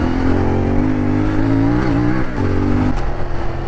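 CFMOTO 450MT (Ibex) adventure motorcycle engine revving off-road, a loud close steady drone with rising and dipping throttle blips, no talking.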